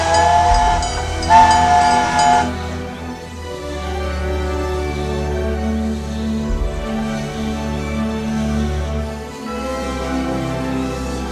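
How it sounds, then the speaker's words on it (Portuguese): A train runs along a railway in southern Brazil: a loud horn blast opens, followed by a steady, heavy rumble of wheels and cars rolling past, with no voices. "Feito trem, na disparada pelas ferrovias do sul do mundo."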